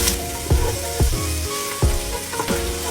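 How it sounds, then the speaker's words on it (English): Prawns hit a hot pan with crushed chili peppers for spicy shrimp fried rice and fry with a loud, steady sizzle. Rhythmic scraping stir strokes come roughly twice a second. "Then add your prawn."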